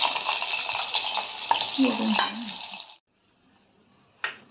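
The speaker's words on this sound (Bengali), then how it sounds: "মাছের মাথাটা ছেড়ে দিলাম।" A fish head drops into hot mustard oil and fries with a loud, bright sizzle for a few seconds, then the sound cuts to near silence before a short final crackle.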